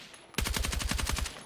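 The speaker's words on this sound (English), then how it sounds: "if you can really understand how to tap fire and burst and micro burst" Carbine automatic fire in Battlefield 6: a quick burst of about eleven sharp, evenly spaced shots, loud and close, beginning after a brief quiet lead-in.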